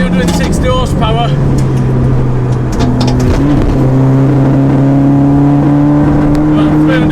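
A tuned Audi TT with a K04 turbo conversion, about 360 horsepower, accelerates on a race track, its loud, close engine note climbing steadily in pitch through the gears with a continuous drone.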